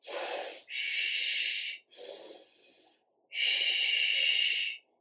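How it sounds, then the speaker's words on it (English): Loud, forceful breaths during a core workout: four long hissing exhales and inhales in steady succession, close and alone with no talking. "Exhale, exhale, inhale, inhale, breathe."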